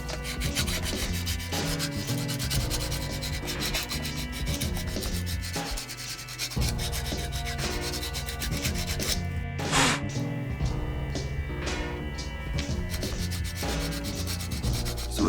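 A custom TMNT Super7 Casey Jones action figure part is sanded by hand in close, continuous rubbing strokes that scrape back and forth. Faint tonal sound runs underneath, with no speech.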